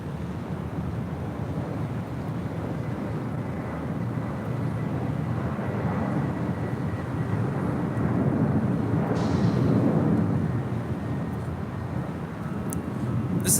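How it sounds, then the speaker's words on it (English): An Atlas Air Boeing 747-400 freighter departs LAX with a sustained low, rumbling jet roar. The roar builds gradually and peaks near the end, with some wind noise on the microphone. "This is Atlas Air 7101 departing to Tokyo Narita on a 747-400 freighter."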